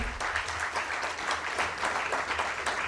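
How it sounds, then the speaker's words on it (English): A large audience at a startup innovation event applauds steadily and loudly throughout, a dense continuous wash of clapping with no pauses. "A huge round of applause, ladies and gentlemen."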